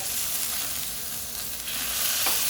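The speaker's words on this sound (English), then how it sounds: "you just want to cook the burgers 5 to 6 minutes per side" Greek beef burgers sizzle loudly in a pan, a dense, continuous frying hiss close up, with a brief scrape as a patty is flipped near the end.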